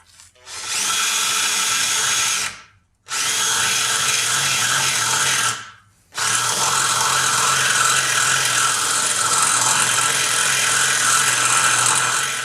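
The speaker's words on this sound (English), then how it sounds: "and then we'll drill it out" A power drill whines loudly while drilling out a bolt hole on an Infiniti G35 rear suspension, in three bursts, the first two a few seconds each with short pauses between, the last running long and steady.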